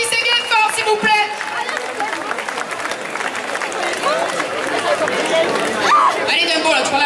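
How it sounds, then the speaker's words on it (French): An outdoor village festival audience at Le Cailar's fête votive claps and cheers for Camille and her elephant Dembo, dense applause with crowd chatter mixed in, steady and loud for several seconds. "Vous pouvez applaudir très fort"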